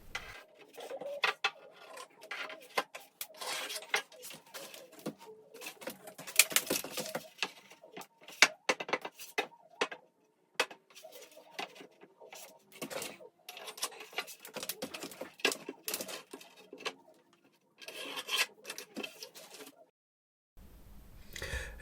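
Stanley knife scoring and cutting out a square patch of ceiling plasterboard, giving a string of sharp scratchy strokes and snaps in bursts, close by, with short pauses between cuts.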